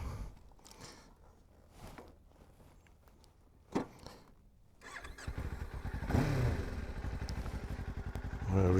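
An off-road motorcycle engine starts after a few quiet footsteps and a clunk, then settles into a loud, close, steady running rumble as the bike pulls away onto gravel roads.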